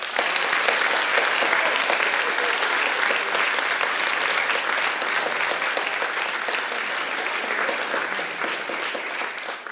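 A concert audience applauds continuously at a spring concert, a dense, even wash of clapping that holds steady for about ten seconds with no pause.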